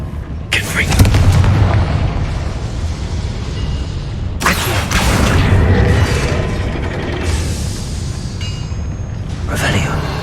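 Booming Confringo spell blasts go off in Hogwarts Legacy, loud explosive bursts with crackling mechanical debris, recurring across the stretch amid game sound and a speaking voice.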